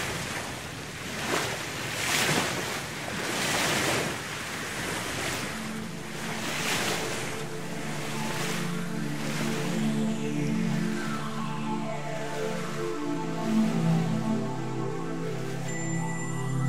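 Ocean waves break steadily against an ancient coral reef coast in the Farasan Islands of the Red Sea, a loud, continuous wash of surf with rolling swells and some wind noise, no voices.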